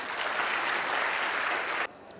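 Dense, steady applause from the crowd at a school alumni meet, following a welcome speech, continuing for about two seconds before cutting off abruptly.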